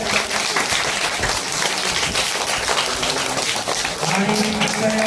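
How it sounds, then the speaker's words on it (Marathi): Audience applause at a school event in Bhiwandi where sports equipment is donated for a birthday, a continuous wash of clapping from a gathered crowd, fairly loud and steady, with a voice briefly rising near the end. "जोरदार टाळ्या द्यायच्या"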